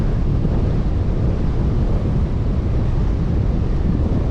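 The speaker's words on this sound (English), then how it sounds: "It's a brutal, brutal onshore wind." Strong onshore wind roars steadily and loudly across a beach in Queensland, Australia, buffeting the microphone with dense low rumble for the whole stretch and no break.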